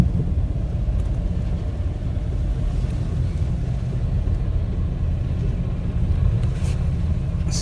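Heavy trucks rolling in along a road during a transport workers' protest in Mexico City, a steady deep engine rumble and road roar lasting throughout, fairly close and loud with no talk.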